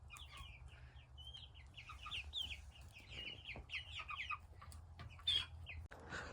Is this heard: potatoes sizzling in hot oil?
no